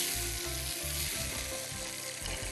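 Chicken curry cooks in a pan with a steady, loud hiss of frying, underlaid by a rhythmic series of low bubbling thumps.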